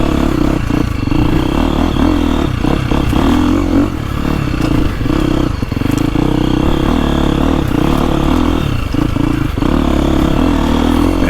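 A stock 2025 KTM 350XCF Factory Edition dirt bike rides a tight woods loop full of switchbacks, its engine loud and close throughout, revving up and down with clatter and scraping from the trail.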